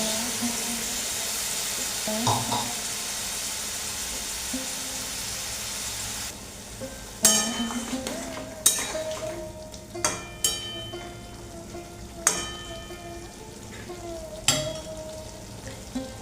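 Potatoes fry in a pan with a steady sizzle; water added partway brings a burst of hiss, followed by several sharp scraping knocks of a stirring spoon against the pan, close by in a home kitchen.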